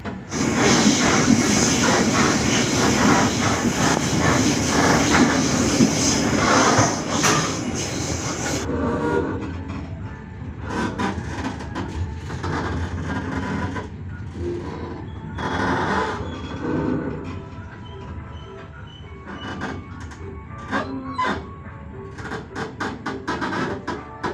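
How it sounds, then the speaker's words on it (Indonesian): Matarmaja economy-class passenger train pulling out of Terisi station in Indramayu. A loud, continuous rumble gives way to rhythmic clattering of wheels over rail joints as it moves off, heard from on board. "KA Matarmaja kembali diberangkatkan dari Stasiun Terisi Kabupaten Indramayu jam 2:14"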